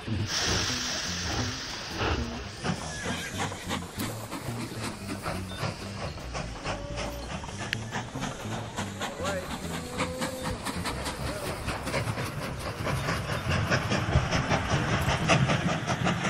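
A train in the Mashinky transport strategy game starts up and runs, giving a steady rhythmic chugging with repeated clacking beats that grows louder and denser toward the end.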